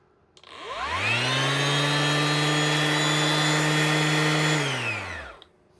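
A Ryobi PBLSD01 brushless sander soft-starts, its motor whine rising smoothly to a loud, steady high-pitched hum, holding for several seconds, then winding down quickly to silence.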